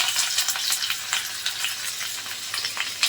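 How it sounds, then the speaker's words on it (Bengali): Nigella seeds and onion being tempered in hot oil for an okra curry sizzle and crackle continuously in the pan, with steady close frying noise and brief spattering pops throughout. "তেল ফোড়ন দিয়ে দিলাম, কালো জিরে ফোড়ন দিয়ে দিচ্ছি, পেঁয়াজ ফোড়ন দিলাম"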